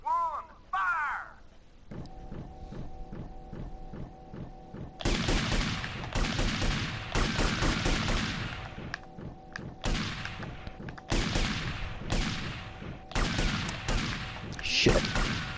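Repeated volleys of gunfire from live ammunition in GTA Vice City Definitive Edition, loud sharp bursts and thuds following a short pause, with a rhythmic mechanical pulsing underneath throughout.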